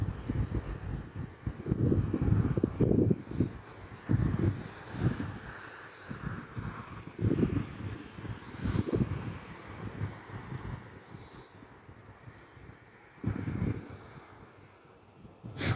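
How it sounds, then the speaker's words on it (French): Strong outdoor wind buffets the microphone in loud, uneven rumbling gusts that ease into calmer stretches, with no talking. "Oui, il y a pas mal de vent."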